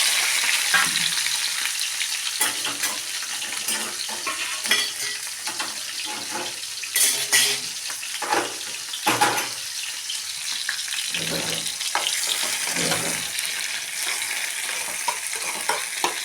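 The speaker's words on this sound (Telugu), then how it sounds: "ఉప్మా అయితే చేస్తున్నాను ఉల్లిపాయలు పచ్చిమిరపకాయలు కలిపి చేస్తున్నానండి" Onions and green chillies frying in a pan for semiya upma give a steady close sizzle throughout, broken by scraping stirs and spoon clinks against the pan.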